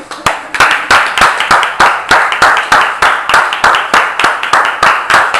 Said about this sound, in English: Let's clap for our teachers.